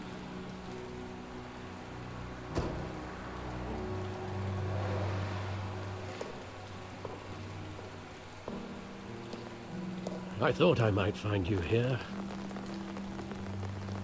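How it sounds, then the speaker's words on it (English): Rain falls steadily at a gravesite in the video game Telltale Batman, a continuous soft patter under low musical drones, with a brief spoken line and a burst of louder sound near the end. "Seems whenever somebody visits the gravesite, it's always raining."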